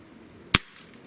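A single sharp crack of a JTS Brawn air rifle firing at 2000 PSI, one loud close shot with a brief decay, otherwise quiet.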